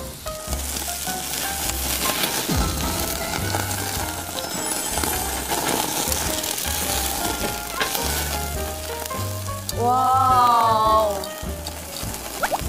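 Meat frying in a pan with a loud, continuous sizzle and crackle, occasional stirring scrapes, and a brief burst of faint background voices near the end.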